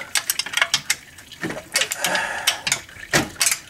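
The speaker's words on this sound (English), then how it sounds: "I'm going to use a wrench." A wrench ratcheting on a transmission bolt during a fluid and filter change, with rapid close clicking bursts and scraping metal in uneven runs, fairly loud and up close.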